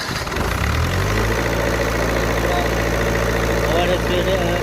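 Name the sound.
Miller diesel welding machine engine running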